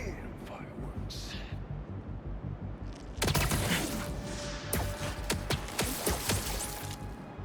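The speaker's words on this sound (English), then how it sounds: "Some guns and fireworks." Gunfire and fireworks in a video game: a quiet stretch gives way after about three seconds to dense, loud bursts of sharp cracks and pops that keep going to the end, over a steady low background.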